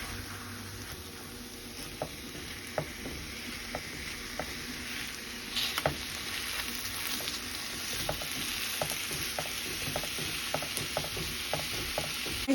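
Ground beef sizzles steadily in a hot pan, a dense crackling hiss with regular scraping and tapping as it is stirred and pressed down, close and fairly loud.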